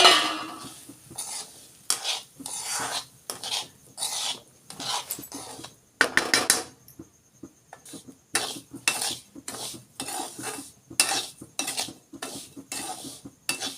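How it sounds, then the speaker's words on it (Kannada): Semolina (rava) stirred and dry-roasted in a pan for sheera, with a rhythmic run of scraping, rasping strokes of a spoon against the metal, steady and close, pausing briefly midway before resuming. "ರವೆ ಇದ್ರೊಳಗೆ ಹಾಕ್ಕೊಂಡು ಕೆಂಪಗೆ ಹುರ್ಕೋತೀನಿ ರೀ ಇವನ್ನ."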